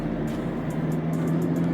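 Engine of a 2020 Mahindra Thar revving during a city drive, a steady loud low drone that builds slightly toward the end, heard from inside the car with no talk.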